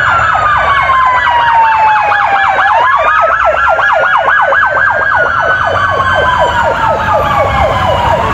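Ambulance siren wailing on a highway near kilometre 15.5 of the Pacific route in Villa Nueva, Guatemala, loud and continuous with rapid rising-falling yelp sweeps over road rumble.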